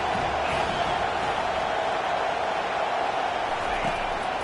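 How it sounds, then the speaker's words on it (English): A stadium crowd at a Penn State versus South Carolina football game roars continuously behind the defense on third down, a broad, loud, sustained wash of noise with no letup. "Decibels rising as the crowd gets behind this defense on 3rd down"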